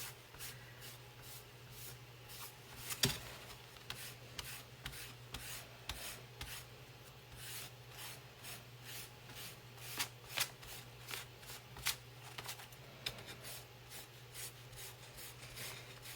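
Paint is rubbed off a pumpkin in soft, repeated strokes. The scratchy, brushing rasp is faint and close, with a low steady hum underneath.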